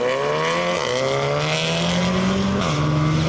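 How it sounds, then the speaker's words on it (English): VW Golf, VW Polo and Mazda MX-5 driving out, loud engine drone with rising revs and gear-change dips, close and continuous. "the Golf and the Polo and the MX-5 are rolling out"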